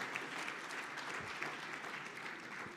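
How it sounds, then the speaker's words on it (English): Steady applause from a conference audience fills the room, dense and even clapping throughout with no voices over it. "Thank you very much for the applause."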